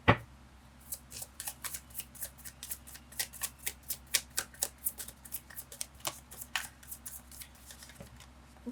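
Tarot cards shuffled and drawn by hand, a steady run of crisp riffling slaps and flicks, close and fairly quiet, with no talking.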